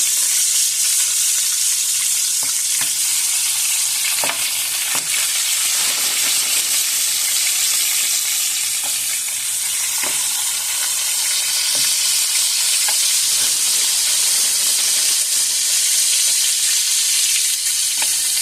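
Frozen fries frying in hot oil, a loud, steady bubbling sizzle with occasional pops and crackles, close up and continuous throughout with no talking.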